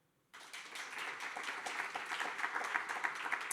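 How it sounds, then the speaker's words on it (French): Audience applause breaks out suddenly after a near-silent moment, welcoming witnesses on stage at a mock tribunal, a steady dense clapping that builds slightly and carries on to the end. "Vous pouvez donc les applaudir."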